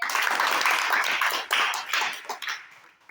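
Classroom of students clapping together in a dense, close burst that thins and tapers toward the end.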